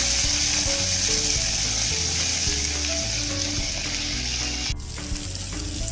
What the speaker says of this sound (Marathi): कांदा आपल्याला छान परतून घ्यायचा आहे.